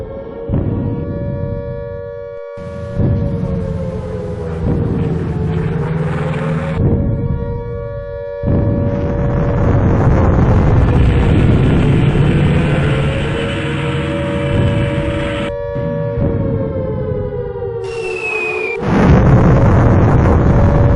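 Heavy bombs explode again and again close by as strange flying ships attack London, a long rumbling barrage of booms under a droning, wailing siren-like tone that rises and falls throughout.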